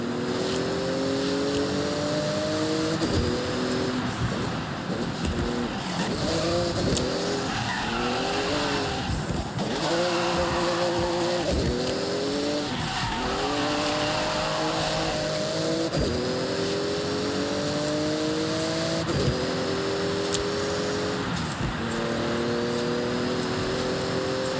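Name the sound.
Porsche racing through speed zone in Forza Horizon video game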